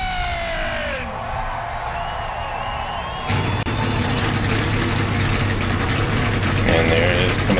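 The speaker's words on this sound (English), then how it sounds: "engines are fired up here at Phoenix" NASCAR Truck Series race trucks firing their engines at Phoenix, a low rumble and crowd noise that suddenly swell into a dense, loud roar of many engines idling together, with an announcer's voice over the start.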